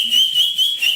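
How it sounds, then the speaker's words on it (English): A loud, piercing whistle blown through the teeth, held steady and high with slight wavers, close and shrill. "Can you do the whistle?"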